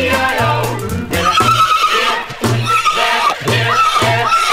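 An imitated horse neigh sung within the children's song Old MacDonald Had a Farm, performed minstrel-show style, a whinnying voice with wavering pitch in repeated bursts over loud backing music.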